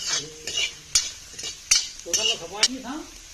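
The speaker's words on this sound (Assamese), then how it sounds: "এতিয়া পিঁয়াজখিনি এনেকৈ মেলি দিবলৈ কৈছে তেল দি ইয়াত দিবলৈ কৈছে" Onions frying in oil for a picnic meal, a steady sizzle broken by repeated loud clanks and scrapes of a utensil stirring in the pan.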